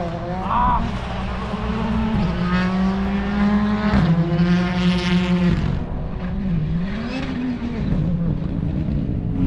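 Race cars testing at the Adelaide Motorsport Festival, with about fifteen cars on track, give a steady, loud engine roar that rises and falls as they rev and shift, close by and continuous throughout.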